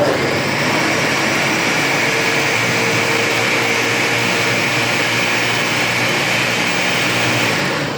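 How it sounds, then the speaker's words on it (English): A blender whirs green plantains for porridge, a loud, steady motorized roar held unbroken for several seconds before cutting off at the end. "And I'm just gonna blend it."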